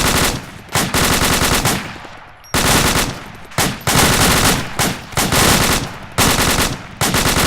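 Loud bursts of automatic gunfire during a military training exercise, several long rapid strings separated by brief pauses, close and dominant throughout.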